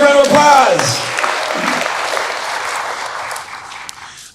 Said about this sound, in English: Calvin, big round of applause.